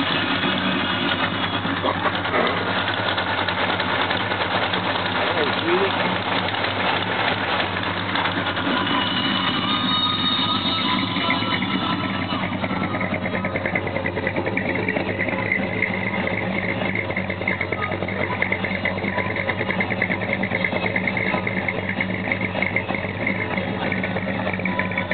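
A car engine with an exhaust leak on both sides runs steadily, a loud continuous rumble with fast rhythmic ticking that holds throughout.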